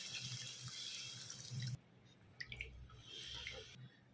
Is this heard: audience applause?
no